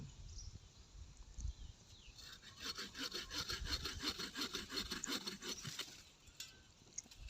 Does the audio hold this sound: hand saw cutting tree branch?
yes